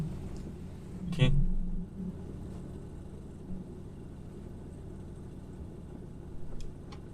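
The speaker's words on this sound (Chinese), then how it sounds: "这就是雪地胎的胎噪" Inside a Honda Fit on snow tires over a smooth concrete road, a steady low droning hum of tire noise fills the cabin, with one louder thump early on and faint ticks later.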